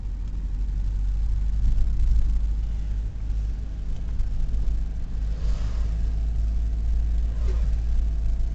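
Inside a 2006 Opel Meriva while driving, the engine holds a steady, loud low rumble with road noise, steady throughout with only slight swells in pitch and no clear revving.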